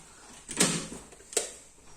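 A door is opened at home, giving two short clunks about three-quarters of a second apart, the first louder with a brief rattle, over quiet room background.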